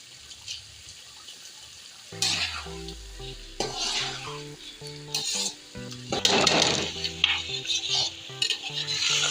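Soaked mash lentils tipped into a cooking pot and stirred, with scraping of a spoon against metal, gentle sizzling and clinking of utensils, close and clear with no talking.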